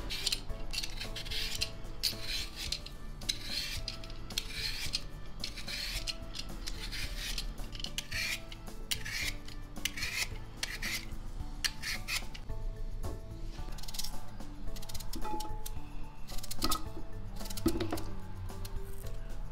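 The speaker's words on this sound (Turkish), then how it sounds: "Ben patateslerimi soymaya başlayacağım." Potatoes are peeled with a knife in quick, repeated scraping strokes, a soft rhythmic rasping at close range in a quiet kitchen.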